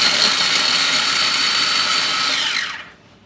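An electric grinder whirs steadily as it grinds chilies and about two inches of ginger for a prawn and egg curry, running loud and continuous for nearly three seconds before the motor cuts off and spins down.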